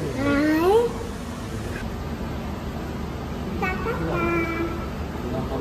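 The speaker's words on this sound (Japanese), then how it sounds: "猫を見て" A cat gives a rising, wavering meow up close, then another shorter meow a few seconds later, over a steady background hum in a public facility in Tokyo.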